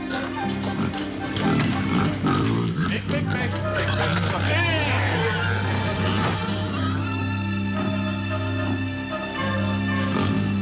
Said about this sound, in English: She's an awful smart pig.